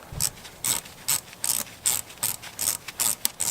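A ratchet with a 5.5mm socket loosens the hose clamp on the throttle body air hose of an Acura TLX, a close series of about a dozen crisp clicking pawl bursts in an uneven rhythm.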